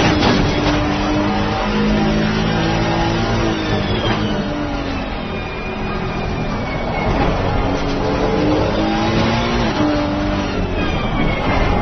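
Race car engine in a video game race on the last lap, loud and continuous with rising and falling revs as gears shift, filling the whole stretch with no talk.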